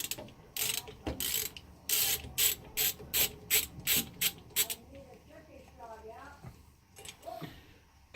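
A hand ratchet clicks in quick bursts of turns while removing the flywheel on a Kawasaki KE102 motorcycle, close and crisp, followed by someone speaking.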